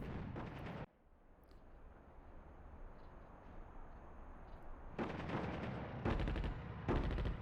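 Artillery fire in the North Africa real-time strategy game Attack at Dawn: a loud burst of shelling opens, then after a quieter rumbling lull, several heavy booming volleys return in quick succession.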